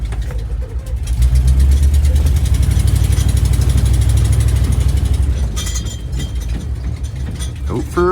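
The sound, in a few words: 1973 International crew cab truck engine idling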